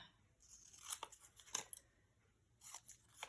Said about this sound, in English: These scissors are kind of gummed up.